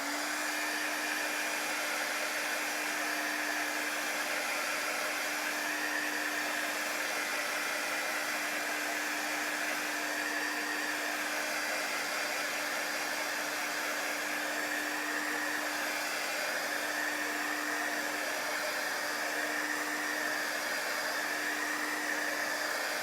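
A hair dryer runs steadily for the whole stretch, drying chalk paste on a round door hanger, its airflow a loud, continuous whoosh with a faint hum and no talking over it.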